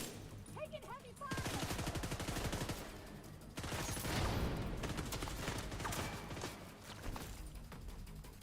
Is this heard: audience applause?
no